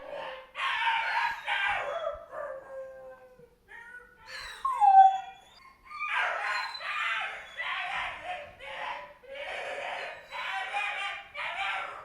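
A young puppy in a crate howls and cries in long, wavering wails, with brief whimpers between bursts, loud and close, no talking.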